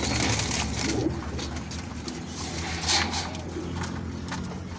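Pigeons coo softly in a breeding room, low repeated calls over a steady background murmur, with a few brief knocks and rustles.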